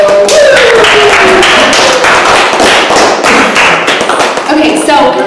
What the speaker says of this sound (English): Let's give a warm, thunderous applause to our next act,